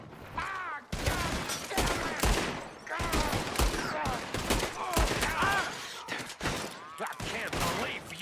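Rapid bursts of gunfire in a Red Dead Redemption 2 shootout, dense and loud with overlapping shots and shouting voices, firing almost continuously with short gaps.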